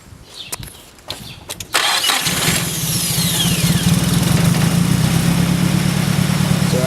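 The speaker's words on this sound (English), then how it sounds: "Ryan, start it up." Nissan S15 with a swapped SR20DET engine cranks with a few short bursts, then catches and settles into a loud, steady idle close by.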